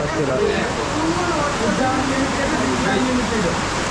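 Heavy rain in Goa pours down in a dense, unbroken roar, loud and close, with faint voices murmuring beneath the downpour.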